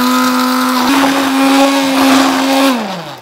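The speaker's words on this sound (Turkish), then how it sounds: "Ben ve el blenderımda olan çılgın maceralar sayı 4." A hand blender purees baby-food peas with leek and butter, a loud close steady motor whine holding one pitch, rising slightly midway, then winding down at the end.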